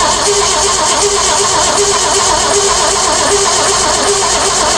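A barn-find 1966 Ford Mustang engine cranks over and over after 40 years sitting, with a loud, steady rhythmic churning of the starter that goes on throughout without catching.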